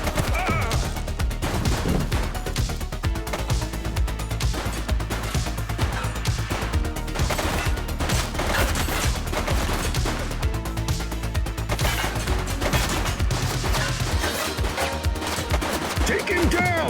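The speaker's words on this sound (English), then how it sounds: "He's shooting!" Dense, loud rapid gunfire from shooting in The Precinct, a police video game, with continuous machine-gun-like bursts layered over a busy game soundtrack.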